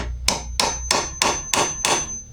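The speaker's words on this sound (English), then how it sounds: "using a metal punch and a hammer to make a divot" Six evenly spaced, ringing metallic hammer strikes on a metal punch held against a motorcycle handlebar, close and crisp with a faint high tone lingering between blows.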